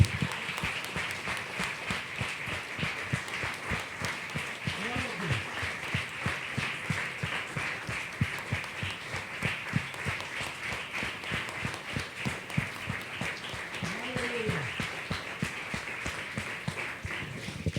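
A church congregation applauding during a Bible study, a long sustained round of rhythmic hand clapping that keeps a steady beat across the room, moderately distant, with faint voices briefly rising within it.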